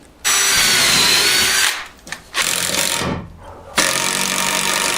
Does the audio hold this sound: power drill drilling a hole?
yes